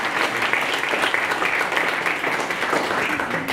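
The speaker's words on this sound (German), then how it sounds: "nochmal ein kleiner Applaus für Christian" Audience at a mayoral candidate's town-hall meeting clapping for a musician, a full, fairly loud and continuous round of applause from a roomful of people that holds steady throughout.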